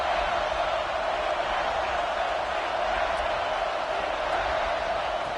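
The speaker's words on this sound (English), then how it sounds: "And here comes the noise. This crowd is trying to inspire this defense to make a big red zone stop." Loud, steady roar of a football stadium crowd cheering during a red zone defensive stand, a dense wash of noise holding constant throughout with no clear breaks.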